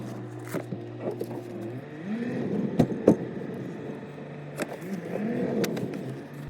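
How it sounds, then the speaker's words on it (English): Mercedes C350 driven slowly, a low steady engine hum with faint rolling noise and a few sharp clicks and knocks from inside the cabin, no one speaking. "I'm just going to simply just give it a quick drive, just slowly"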